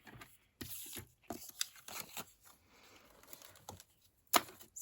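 Card paper being cut during scoring and folding for a biscuit treat holder, heard as a few short, close, crisp bursts of crunchy cutting and scraping with quiet gaps between them.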